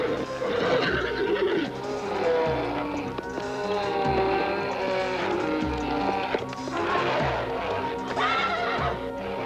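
A horse whinnies in a long, wavering neigh over a steady bed of sound, with rhythmic clip-clop hoofbeats thudding underneath throughout.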